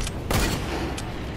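Gunfire from a trick shot attempt in the video game Fortnite, a couple of sharp bursts with one brief crack following, fairly close against a noisy background.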